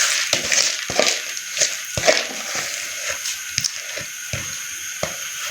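Washed rice poured into boiling yakhni stock for Kabuli pulao, with a run of sharp, rattling splashes and taps over a soft watery bubbling. Close and moderately loud, with no voices.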